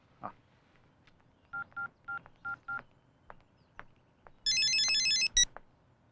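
A telephone is dialed with a series of five short keypad tones in quick succession, followed by a longer burst of electronic ringing that stops briefly and sounds once more, all fairly close with little else around.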